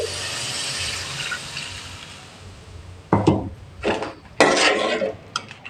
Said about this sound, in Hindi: अब इसमें मैं 1 गिलास पानी का डाल दूंगी।